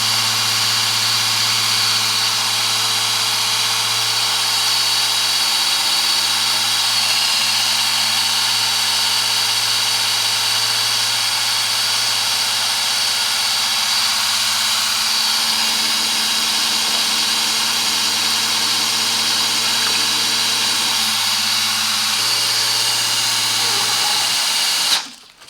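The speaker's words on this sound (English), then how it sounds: "The pump is working for the first time." Parkside PBP B1 pump driven by a drill, running as a loud, steady high-pitched whine with buzzing motor tones, a slight pitch shift midway, stopping abruptly at the end.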